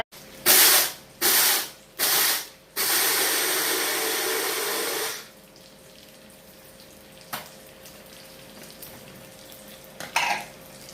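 A kitchen mixer grinder powders roasted salt in three short pulsed bursts followed by one longer grinding run, loud and close, then stops, leaving near-silence with a few faint clicks.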